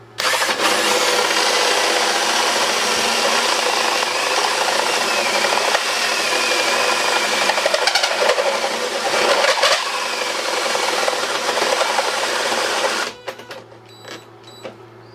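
A hole saw with a pilot bit bores through a piece of MDF on a boat restoration job, a loud, steady grinding drone that runs for about thirteen seconds before cutting off abruptly into quiet.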